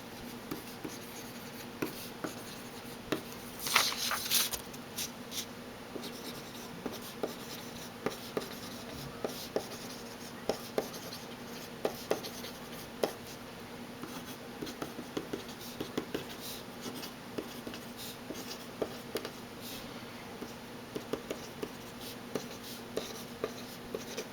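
A Paper Mate PhD Ultra mechanical pencil with a shock-absorbing tip writes on paper, giving faint, close scratching strokes in an irregular rhythm with short pauses, alone in a quiet room.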